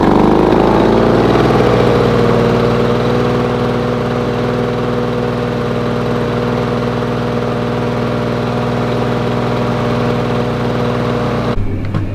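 Lawn Boy lawn mower engine fires up and settles into a steady, loud running drone close by, holding an even pitch for several seconds before cutting off abruptly near the end.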